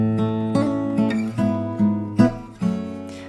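Fingerstyle acoustic guitar plays the main theme of a song as a solo arrangement: a few clear plucked notes and chords ring out one after another, close and alone.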